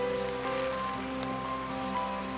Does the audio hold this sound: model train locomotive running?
no